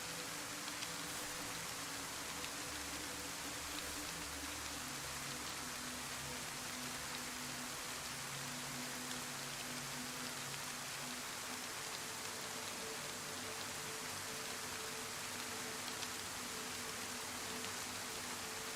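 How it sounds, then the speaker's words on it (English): Steady rain hisses down in the video game DayZ, an even, unbroken wash of falling drops holding at a constant, fairly quiet level for the whole stretch with no voices. "Kind of just waiting for this rain to back off a little bit."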